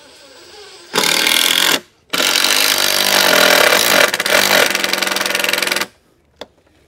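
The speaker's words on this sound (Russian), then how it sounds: "Саморез ставим по центру," A power screwdriver drives a self-tapping roofing screw in two loud whirring runs separated by a short pause, followed by a single sharp click.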